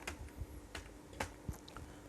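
A computer keyboard is typed on while entering notes into Microsoft Excel, with a handful of quiet, separate key clicks spaced irregularly across a faint, hushed room.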